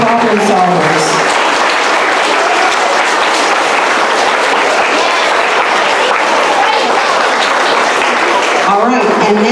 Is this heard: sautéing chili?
no